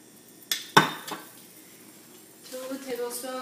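A small pan for oyster sauce goes onto the stove with two sharp metallic clanks and a lighter knock, then a quiet pause and faint bubbling, sizzling sounds near the end.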